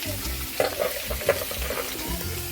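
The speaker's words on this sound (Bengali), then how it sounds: "এবারে কিছুক্ষণ নাড়িয়ে মানে একটু কষিয়ে নেব" Food stir-fried and sautéed in a pan at a home stove, steady sizzle under repeated scraping and stirring strokes, close and moderately loud with no talking.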